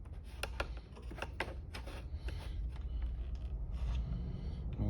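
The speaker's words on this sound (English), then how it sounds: "A little wrench, just tightening it up." A small wrench tightens the bolts on a motorcycle speaker lid for an Indian Chieftain, giving a quick series of light metallic clicks and ratcheting ticks over a steady low rumble.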